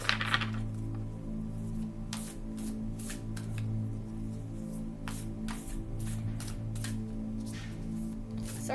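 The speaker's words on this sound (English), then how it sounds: "Sorry if you hear all that clanking in the background. That's the garbage trucks running." Clanking from garbage trucks running outside, heard as repeated sharp metallic bangs and rattles at irregular intervals over a steady low mechanical drone, moderately distant and fairly loud in the background.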